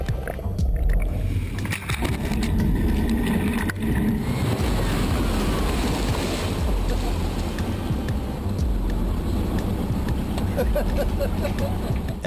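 An amphibious car cruises on the Danube canal water, with water splashing and churning against the hull, wind buffeting the microphone and a low engine rumble throughout.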